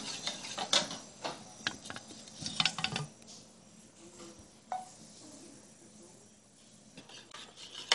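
A spoon stirs cornstarch and milk in a pan, giving quiet irregular scrapes and light clinks against the metal, closer and busier early on, then sparser over a faint background.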